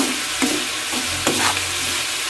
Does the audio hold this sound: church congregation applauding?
no